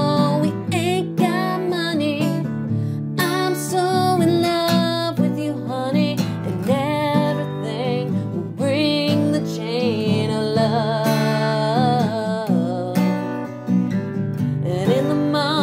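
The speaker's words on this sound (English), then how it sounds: "Okay, so I'm hitting the low notes on the first down strum and the high notes on the top strum." Chorus of a song strummed steadily on an acoustic guitar, low strings on the down strokes and high strings on the up strokes, played close and loud with swelling, shifting dynamics and no talking over it.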